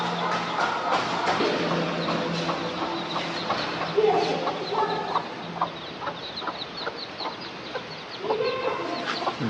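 Chicks and hens cluck and cheep close by, a busy run of short chirping calls over a steady rain-like background hiss.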